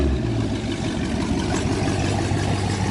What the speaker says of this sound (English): I swear everybody car sound louder.